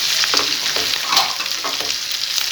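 Cumin seeds sauté in hot desi ghee in a pan, giving a steady, close, crackling sizzle with small pops and the occasional scrape of stirring.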